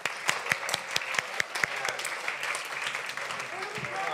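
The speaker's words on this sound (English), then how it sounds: "we can give them another round of applause" Congregation applauding during a Sunday church service, with several sharp distinct claps early on that settle into softer, sustained clapping from the room, with some voices mixed in.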